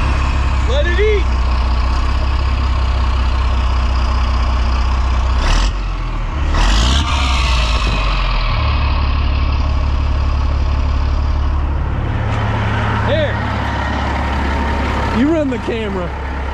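Engine of a 1984 GMC General truck, abandoned for 20 years, running with a deep, loud rumble and throttle rises, while people talk and shout nearby.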